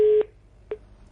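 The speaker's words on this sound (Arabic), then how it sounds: "انقطعت المكالمة." A steady telephone line tone after a call-in to a TV program drops, then cut by short repeated beeps, loud and clear over a faint background hum.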